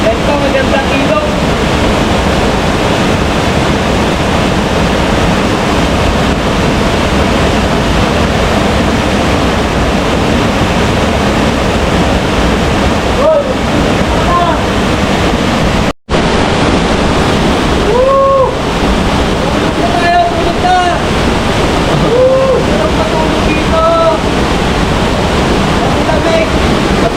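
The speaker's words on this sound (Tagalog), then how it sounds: "Ganito magandang ilog." A river in Paluan, Occidental Mindoro, rushes in a loud, steady flow mixed with wind buffeting the microphone, while a few faint voices and calls rise near the end.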